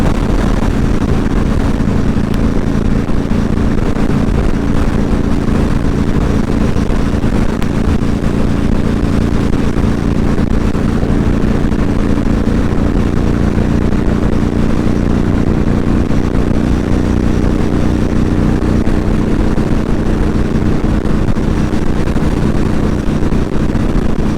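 An old car engine cruising at 75 mph and about 3,500 RPM on an interstate, heard from inside as a loud, steady drone mixed with road rumble and wind noise, unbroken and without talk.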